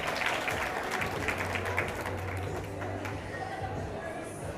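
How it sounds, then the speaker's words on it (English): Applause from a crowd at a community fashion show, a steady patter of clapping hands with a voice murmuring underneath, fading slightly toward the end. "So again, a big round of applause for that."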